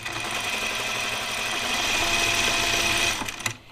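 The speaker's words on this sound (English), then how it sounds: "So I'm going to sew up to the dot right here with a regular stitch." Sewing machine running a steady regular stitch on a coat, a loud even mechanical whir with fast rhythmic needle pulses for about three seconds before stopping abruptly with a clunk.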